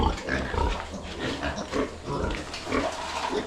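Pigs grunting and oinking repeatedly nearby, a continuous low chorus of snorts at moderate volume with no talking.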